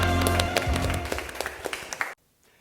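A congregation claps during a children's Sunday worship service at a church, a dense burst of applause over a low sustained musical tone that stops abruptly near the end.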